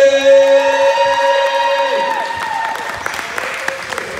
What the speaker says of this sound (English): Let's clap it up for Hunter Haverly!